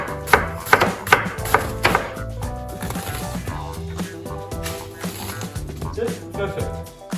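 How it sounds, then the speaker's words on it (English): Onion sliced with a knife on a board, a handful of crisp chopping taps early on before the cutting fades under a voice talking. "We're going to slice down the onion."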